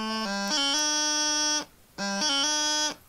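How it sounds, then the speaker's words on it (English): Two D throw embellishments played on a bagpipe practice chanter, each a quick run of stepped reedy notes settling into a sustained tone, with a short gap between them. "The other one is the D throw, which sounds like this."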